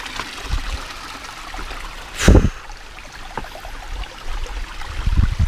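Water trickles and splashes from a mountain spring beside a rocky river trail while hiking, a steady close babble with one louder splash midway.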